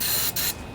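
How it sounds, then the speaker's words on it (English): Two short, close bursts of hissing aerosol spray as starting fluid goes into a junkyard Briggs and Stratton Intek twin riding lawnmower engine, with a brief gap between them and no talking. "Put a little more starting fluid in here."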